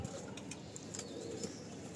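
Kalsira pigeons, a ready breeding pair in a loft, coo softly and steadily in a low murmur, with faint chirps and light rustling around them.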